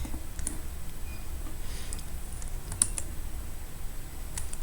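Quiet, irregular computer keyboard typing while code is entered, soft clicks and taps scattered over a low background hiss, with one slightly sharper keystroke.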